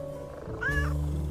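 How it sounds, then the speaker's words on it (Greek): A single short cat meow from the video game Little Kitty Big City, rising and falling over a steady low in-game background hum. "Ακούγεται και το γρρρρ που κάνουν οι γατούλες."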